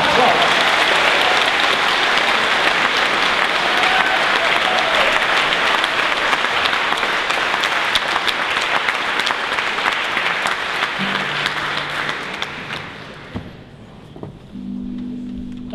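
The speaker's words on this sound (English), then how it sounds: "So give them a big round of applause." An audience at a memorial celebration of Tony Benn's life gives loud, sustained applause for about thirteen seconds, which thins out and fades near the end.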